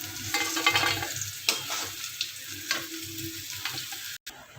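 Paneer frying in hot oil in a pan, a bright continuous sizzle with crackling pops and scraping as the pieces are stirred and lifted out, close and steady before a brief cut near the end.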